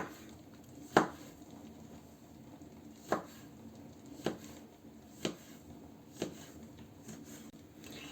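A knife chopping tomato into small cubes on a cutting board: five sharp, isolated chops spaced about a second apart, close and clear in a quiet kitchen.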